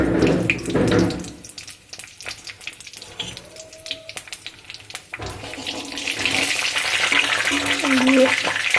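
Bay leaf, dried red chillies and panch phoron hit hot oil in a wok for a chalta pickle, giving a steady broad sizzle that swells louder near the end with some stirring clatter.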